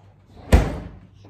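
A toy fridge door shuts with a single short thud and a quick rattling decay, close by, with no talk.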